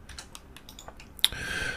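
Computer keyboard keys pressed as shortcuts in a 3D modelling program, a run of light, quick clicks, with a sharper, louder tap near the end as a brighter sustained tone rises.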